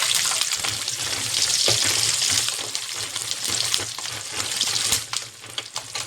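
Peanuts, urad dal, chana dal and dried red chillies fry steadily in hot oil, a continuous close sizzle and crackle with a few sharper pops, heard alone without speech.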